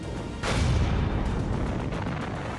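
A huge battleship cannon fires, one heavy booming blast that erupts suddenly and rolls on as a long, loud low rumble.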